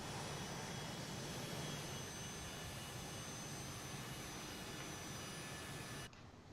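Steady, loud turbine roar of a Phenom 100 light business jet taxiing, a broadband whine with high tonal lines running continuously before dropping off abruptly near the end.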